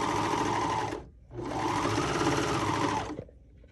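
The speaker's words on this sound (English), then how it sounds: "So here I have my little air threader serger set up for a regular 4-thread overlock." An air threader serger stitches a 4-thread overlock in two loud, steady whirring runs with a short pause between them, close up and with no talk.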